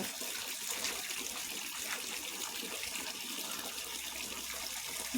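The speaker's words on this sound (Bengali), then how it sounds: "ঘন্টু মহারাজকে আমাদের, ইস স্নান করালে চোখ মুখ সব বন্ধ হয়ে যায়" Water runs steadily from a tap while a dog is bathed, a continuous even hiss and splash heard fairly softly throughout, with no break.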